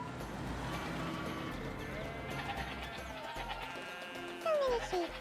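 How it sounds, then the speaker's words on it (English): Sheep bleating in a crowded flock along Australia's Great Ocean Road, with a few clear bleats standing out near the end over steady background noise and faint voices. "So many sheep."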